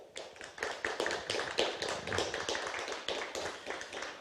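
A small audience applauds at the close of a theatre talk, steady dense clapping from a modest crowd sustained throughout, fairly close and with no speech over it.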